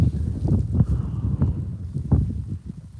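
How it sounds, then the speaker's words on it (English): Gusts of cold wind blow through a small gap on a Scottish hillside near Suilven at dawn, buffeting the microphone in low, uneven surges with no voices. "the wind's coming through this little gap here, and it's a cold wind"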